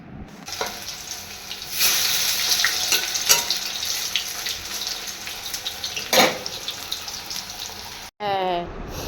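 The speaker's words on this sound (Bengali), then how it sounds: "এই যে এখন পকোড়াগুলো ভেজে নিচ্ছি" Marinated chicken pakoras deep-frying in hot oil in a home kitchen, giving a loud, steady bubbling sizzle close by with occasional clinks, briefly broken by a pause and a short voice near the end.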